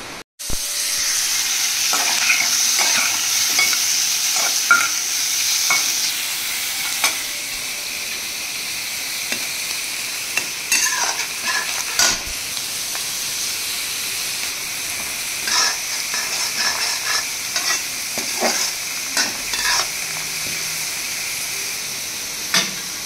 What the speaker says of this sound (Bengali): এবার আলু ভাজতে দিয়েছি